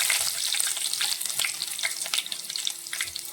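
Onions frying in hot oil with popped mustard seeds for a traditional Kerala pearlspot curry, a steady close crackling sizzle with scattered pops throughout, no voices.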